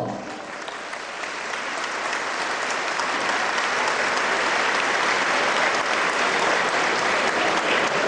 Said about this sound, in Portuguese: eu pedia uma salva de palmas